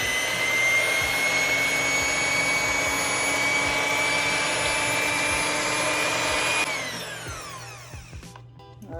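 An electric hand whisk set to medium mixes chocolate chip cookie batter, a steady high whirring motor drone close by that winds down near the end.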